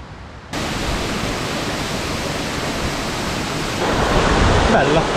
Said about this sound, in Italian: andiamo a vedere questa cascata di ferro che dovrebbe essere